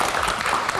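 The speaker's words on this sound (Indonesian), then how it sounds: "Kita kasih tepuk tangan sekali lagi." Studio audience applause on a late-night talk show as a guest takes a seat: a dense, steady wash of clapping that fills the short moment without a break.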